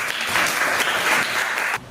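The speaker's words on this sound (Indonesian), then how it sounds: "Tepuk tangan." A short burst of applause from a class of students, steady clapping that fills the classroom for about two seconds, then cuts off abruptly.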